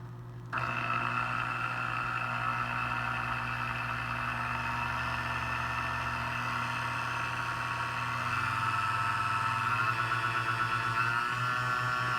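A vintage Sunbeam Mixmaster Model 3A stand mixer motor running steadily after switching on, a continuous whirring hum with a faint shift in pitch partway through.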